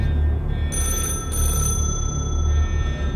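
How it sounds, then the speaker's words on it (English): A telephone bell rings off to one side, a steady electronic ring with a sustained tone over a low rumbling background, moderately loud and without speech. "You hear a phone ringing."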